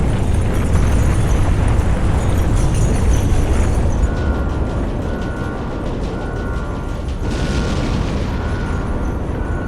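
Rocket liftoff in the video game Trails Beyond the Horizon: a loud, sustained blast-like roar of engines, broadband and steady, easing slightly midway then swelling again, with no speech over it.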